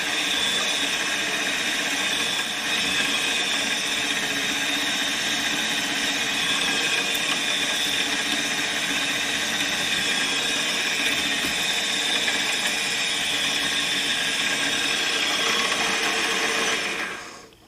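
A small machine drills tiny holes with miniature bits in slow pecking passes, a steady high-pitched motor whine with faint cutting chatter running continuously for about seventeen seconds before stopping.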